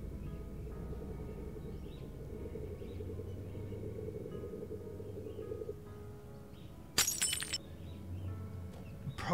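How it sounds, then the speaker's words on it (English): Glass shatters in the horror game Fears to Fathom: Home Alone, a sudden sharp crash with tinkling shards cutting through a low steady indoor rumble, followed by a second brief clink near the end. "Bro, it's so ugly the glass broke."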